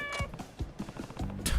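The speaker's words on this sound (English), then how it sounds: "You formed a bond with the lucky cat." A cat meows in the samurai-era video game Like a Dragon: Ishin, with a few short mewing calls in a quick uneven run over soft game sounds.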